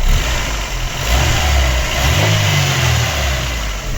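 A Chevrolet Aveo 1.5 eight-valve engine runs steadily at idle after a head gasket replacement, with a low, even rumble and a slight rise in revs midway, close and continuous with no voices.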